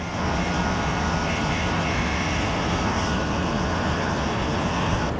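A heat gun blows with a steady, loud, even roar, unbroken throughout, while warming the vinyl cover of a 1965 MGB seat kit during installation.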